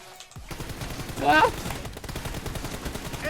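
Gunfire in the mobile battle-royale game PUBG Mobile, a short burst of rapid shots peaking near the middle of the clip amid busy game noise.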